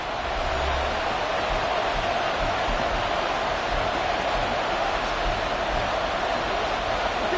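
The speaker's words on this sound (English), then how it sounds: "This crowd turning up the decibel level." A stadium crowd at a football game roars in a dense, steady wall of noise that holds at full volume throughout, with no distinct voices standing out.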